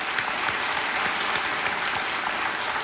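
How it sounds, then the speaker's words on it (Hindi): A studio audience on a quiz show set bursts into steady, dense applause to welcome a contestant, sustained clapping throughout with no one speaking. "एक बार तालियों के साथ इनका स्वागत किया जाए"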